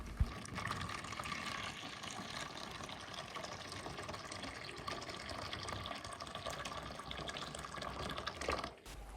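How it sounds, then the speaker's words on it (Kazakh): Boiling hot water pours into a small bowl as a continuous soft rushing stream, faint and steady from start to finish, ending with a brief clink. "Қамыр илеген ыдыстан кішірек ыдысты алып, ішіне қайнап тұрған ыстық суды құямыз."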